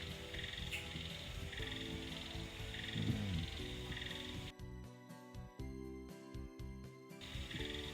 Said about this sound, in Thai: ขณะนี้หลังบ้านครูก็เริ่มมีเสียงกบเสียงเขียด เสียงอึ่งอ่างดังขึ้นนะเพราะวันนี้ฝนตกทั้งวันเลย